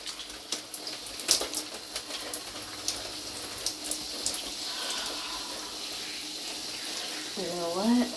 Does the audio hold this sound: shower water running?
yes